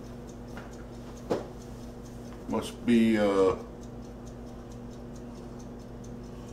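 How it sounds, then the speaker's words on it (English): A clock ticks steadily and faintly in the background, with short bursts of speech rising over it partway through. "I hear it ticking."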